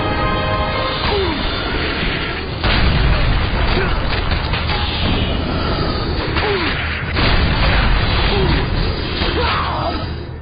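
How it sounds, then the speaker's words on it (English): Ships firing artillery in the video game God of War: Chains of Olympus, with loud repeated booms and crashes over a dense, continuous battle din, a voice talking over it. "go shoot the ballista to stop those ships from firing to you"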